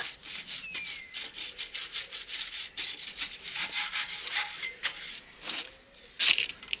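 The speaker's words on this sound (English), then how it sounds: "Give it a quick wire brush over" Quick wire brushing over the brake slider and caliper parts of a Vauxhall Frontera to clear built-up muck, a steady close scratchy rubbing in repeated strokes with a brief louder scrape near the end.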